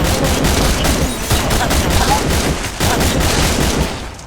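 Modded guns such as a Scar fire in a Minecraft game as dense, continuous rapid bursts, loud and close, forming a nonstop crackling barrage.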